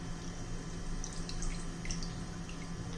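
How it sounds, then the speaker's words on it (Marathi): Half a lemon squeezed into a pot of water, giving faint, close dripping and trickling of juice over a low steady background, with a few soft drips. "आपण त्याच्यात लिंबू पिळणार आहोत पाण्यामध्ये"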